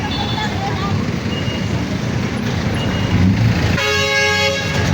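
A truck horn toots amid busy street traffic outside Tutuban, sharp and tonal over a rumble of engines and crowd noise, with a person talking nearby.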